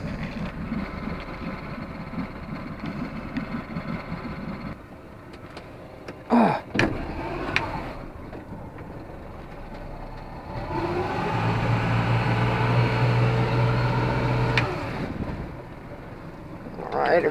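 A sailboat's motor idles at a small dock while it warms up, a low steady hum with wind noise over the microphone, a few knocks midway, and a stronger rumbling stretch later on.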